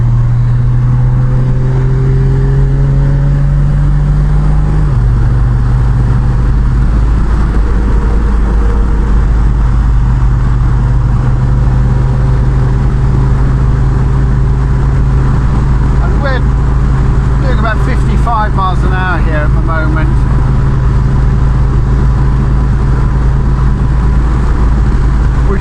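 A 1967 Triumph Vitesse 2 Litre drives at speed on a dry, fast country B-road with bends. Its engine drones steadily and shifts pitch through gear changes, with road and wind noise throughout and talk in the car over it.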